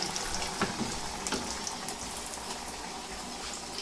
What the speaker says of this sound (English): And I think this is supposed to fry.